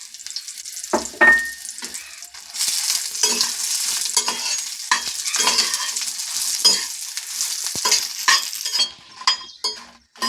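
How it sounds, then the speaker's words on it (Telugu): Dried red chillies fry in hot oil for a peanut chutney, giving a steady close sizzle while a spoon scrapes and stirs the pan in repeated strokes. "ఇప్పుడు కొద్దిగా ముందుగా రెడీ చేసి పెట్టుకుని ఎండుమిర్చి వేసుకొని వేయించుకుందాం"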